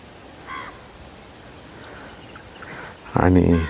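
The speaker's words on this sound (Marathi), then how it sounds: "आता बघा किती शांतता पसरलेली इथं फक्त पक्ष्यांचे आवाज मला आता येत आहे" Crow-like caws ring out in the still valley of the old Chandanapuri ghat on the Nashik–Pune road: a short call early on, then a louder, closer burst of harsh cawing at the end over faint background hush.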